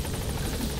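A helicopter in Metal Gear Solid V: The Phantom Pain gives off a steady, thick rotor drone with a low, chopping throb. The sound is brief and continuous, with no talk over it.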